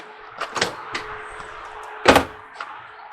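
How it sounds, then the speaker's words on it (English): The front entry door of a 2022 East to West Alta 3150KBH bunkhouse travel trailer opening, with a couple of near latch clicks early on and a louder clatter of the door swinging open, then a small knock. "We're going to open the door fully extended."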